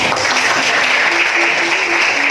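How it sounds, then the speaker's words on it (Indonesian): A classroom applauds a student, a loud, continuous wash of many hands clapping together, close and steady, with a faint voice underneath. "Tepuk tangan untuk Ari"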